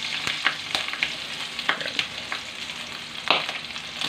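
Oil sizzles in a hot pan while sautéing for pakbet, with a steady frying hiss and several sharp clinks and scrapes from stirring, close and moderately loud.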